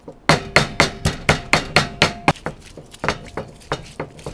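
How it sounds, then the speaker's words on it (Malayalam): Ginger is pounded for a Kerala thattukada-style crispy chicken fry masala, about fifteen sharp, evenly spaced thuds in a steady rhythm that grow slightly softer and looser toward the end, close and alone. "അപ്പോൾ ആദ്യം നമുക്ക് ഇഞ്ചി ചതയ്ക്കാം"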